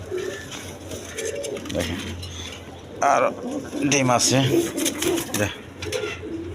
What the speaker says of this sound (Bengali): এইখানে 1 পেয়ার গররা কবুতর আছে